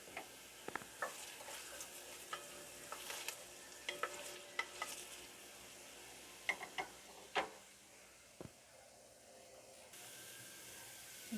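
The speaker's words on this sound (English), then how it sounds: "Got our onions in there browning some." Onions browning in a pan with squash added for a mock oyster stew, giving a steady low sizzle with scattered clicks and scrapes of stirring, moderately close and with no talk.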